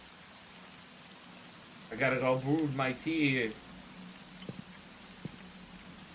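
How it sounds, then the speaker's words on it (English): Rain in the video game Black Mirror III, a faint, steady patter in the background, briefly under a man's spoken line, with a few soft drips afterward. "where did this fucking November rain come from?"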